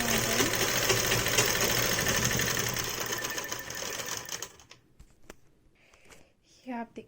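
Sewing machine running continuously at speed while double-stitching fabric for capri pants, a close, rapid mechanical whirr that stops after about four seconds, followed by quiet handling noises and faint talk.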